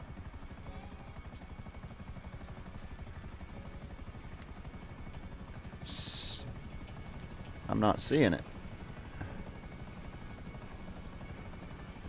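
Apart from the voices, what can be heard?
helicopter flying in video game GTA 5 Online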